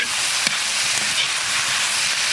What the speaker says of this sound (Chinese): 下入泡好的紫甘蓝，紫甘蓝上的水分往出炒一炒，下入粉条